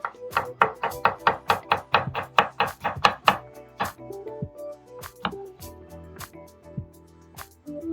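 Knife chopping through a capsicum on a cutting board: a quick run of about a dozen sharp, close knocks, then a few slower, spaced cuts with soft rustling between.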